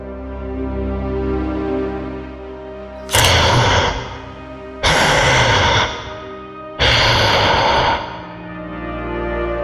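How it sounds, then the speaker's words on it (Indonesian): Loud human breathing heard as three heavy, drawn-out exhalations spaced a few seconds apart, sounding like sighs or gasps in a quiet room at night. "Pak Uji mendengar suara napas orang yang sangat keras"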